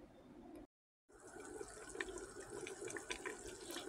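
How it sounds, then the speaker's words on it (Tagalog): Tap water runs steadily into a cooking pot of meat being prepared for meat with coconut milk, a continuous splashing stream broken by a brief silent gap near the start. "Tapos lagyan ko na rin siya ng tubig. Konti lang."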